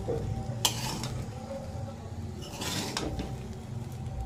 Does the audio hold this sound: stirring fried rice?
yes